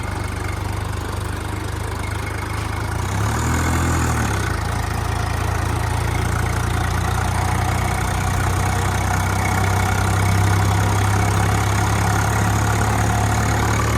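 A John Deere tractor in fourth high gear hauls a fully loaded trolley up a steep slope, its diesel engine droning steadily and loudly close by for the whole stretch, with a brief low warble partway through and no talking.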